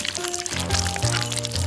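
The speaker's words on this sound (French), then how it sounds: "Je vais la verser dans les bols." Thick waffle batter pours from a container into bowls in a kitchen, a close, soft glugging stream with low gurgles that shift in pitch as it fills.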